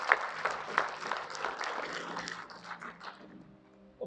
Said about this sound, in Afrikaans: ons gee die hande klap asseblief vir die Here